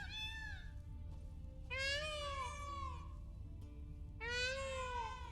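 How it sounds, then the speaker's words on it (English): Several clear drawn-out cat meows from The Witcher 3 video game, three distinct calls with rising-falling pitch, close and fairly loud over a low steady background hum. "It does look like they're in the direction of the cat sounds."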